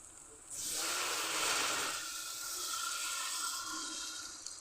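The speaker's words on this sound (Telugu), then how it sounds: "ఇప్పుడు నీళ్ళు పోయాలి" Water pours steadily into a pan close by, a hissing, splashing rush that starts abruptly and continues for several seconds before easing slightly.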